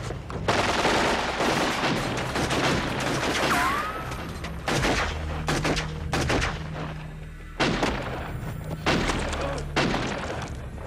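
Gunfire in an action film scene, bursts of loud close shots and rapid automatic volleys with ricochet whines and shattering debris, broken by short pauses.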